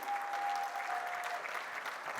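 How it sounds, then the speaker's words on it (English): An audience claps at a live talk event with Deepika Padukone, producing steady, dense applause at moderate volume throughout, with a brief tonal hum underneath. "Can we please have a big round of applause?"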